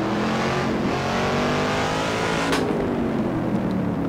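A race car on a hill climb course accelerates out of tight hairpins, its engine a loud, steady roar with rising revs throughout and a brief sharp burst partway through, no voices.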